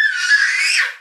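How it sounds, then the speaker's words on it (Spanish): A small child lets out one loud, high-pitched scream that holds steady for about a second, then fades out, close up with no other sound. "Y esos gritos, hijo."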